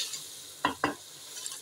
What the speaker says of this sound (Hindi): ये टींडों को अच्छी तरह से भुनेंगे